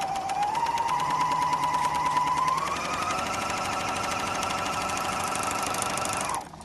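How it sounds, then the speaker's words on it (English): A Bernina L460 overlocker sews a 3-thread overlock seam with a loud, steady mechanical whir. A rising whine settles into a constant hum that runs unbroken for several seconds before winding down at the end. "And there's my 3-thread overlocking"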